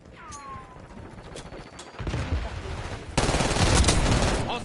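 Gunfire in Call of Duty, rapid bursts of automatic shots that start sparse and swell into a dense, loud fusillade over the last seconds, mixed with game effects and a radio voice.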